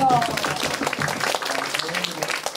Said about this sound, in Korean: 박수 받고 하겠습니다